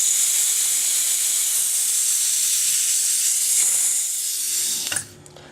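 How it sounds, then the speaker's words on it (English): Pressurized air bleeding from a fill line, a loud steady hiss lasting several seconds that drops away abruptly, followed by a short mechanical click. "We're going to bleed the pressure out of that line."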